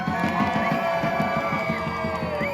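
A protest crowd cheers and applauds outdoors, a dense wash of clapping with many overlapping shouting voices and a steady rhythmic pulse, loud and continuous.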